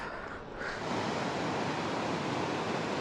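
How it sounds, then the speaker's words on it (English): A small waterfall pours in a steady, dense rush of water, constant and fairly close, with no voices over it. "There's a beautiful little waterfall here."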